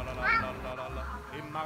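A kitten gives one clear, close meow near the start, followed by softer faint mews, while someone talks to it gently in French.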